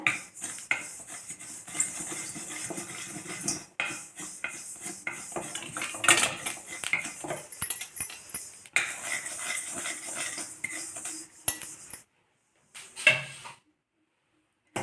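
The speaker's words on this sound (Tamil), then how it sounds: "நல்லா கருகாமல் தீய விடாமல் நிதானமாக வறுத்து எடுத்துக்கணும்" Fenugreek seeds roasting slowly in a pan are stirred with a metal spoon, producing irregular close scrapes and clinks against the pan that stop near the end.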